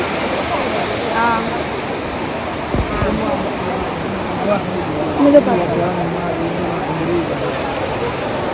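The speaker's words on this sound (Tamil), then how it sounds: "சரியான தண்ணி விழுந்துச்சு குற்றாலத்தில்." Waterfall at Courtallam falls, a loud, dense, continuous roar of falling water filling the whole scene, with faint voices of people nearby mixed in.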